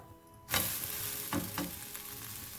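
String parotta (nool parotta) frying in oil on a hot pan, silence giving way to a sudden loud sizzle that holds steady, with a couple of brief scrape bursts as it is spread and handled.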